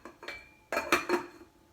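A metal lid is set onto a pot of simmering cabbage soup, giving a few quick clinks and clanks, then a louder cluster of metallic clatter as it settles into place.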